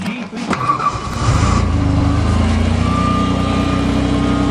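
A Nissan Stanza on a cold start, a clatter as the engine catches and then a loud, steady running rumble held close by, with a faint whine and no talking.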